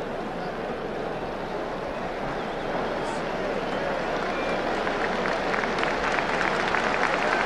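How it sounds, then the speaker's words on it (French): A stadium crowd at Colombes applauds as Hungary's footballers walk onto the pitch for a 1964 European qualifier against France, a steady, distant wash of clapping and crowd noise that grows slightly louder toward the end. "Les footballeurs hongrois du reste qui sont applaudis, vous le voyez, par le public de Colombes à leur entrée sur le terrain"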